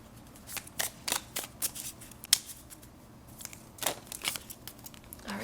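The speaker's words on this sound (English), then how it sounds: "we're going to shuffle some astrology cards to see if we can get any more information on this person" Astrology cards being shuffled by hand, a series of quick papery riffles and flicks arriving in irregular bursts, close and fairly quiet, with no voices.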